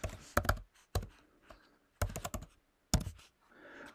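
Fingers type on a computer keyboard, entering a username in quick bursts of crisp clicks separated by short pauses, close and clear with no voices.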